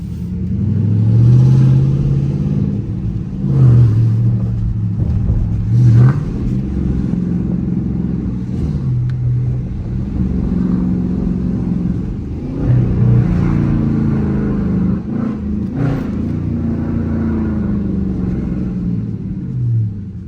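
A Dodge Charger R/T driven through city streets at night, its engine giving a deep, loud, continuous rumble that swells with throttle in repeated surges, heard alone without talk.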